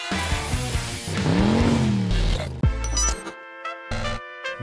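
A 1991 Nissan Cefiro A31, a rear-wheel-drive four-door sedan, sounding loud and close as a rising engine whine sweeps upward, then cuts sharply to a chopped, pulsing exhaust note.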